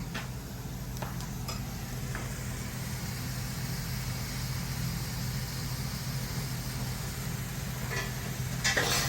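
King prawns in tikka marinade half-cooking in a pan for a restaurant-style jhinga dish, a steady broad sizzle holding near and level throughout, with a few light clinks of utensils against the pan.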